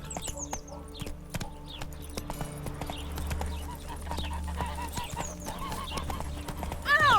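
Horse galloping in The Witcher 3, rhythmic hoofbeat clip-clop throughout with occasional neighs and a rider's voice calling out, birds faintly chirping in the background.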